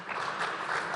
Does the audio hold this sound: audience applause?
yes